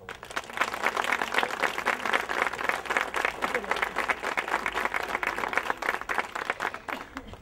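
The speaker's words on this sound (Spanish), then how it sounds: "Un aplauso para ellas." Applause for the singers at a village saint's procession (Procesión del Caracol): steady crowd clapping, dense and fairly close, sustained for several seconds with a murmur of voices underneath.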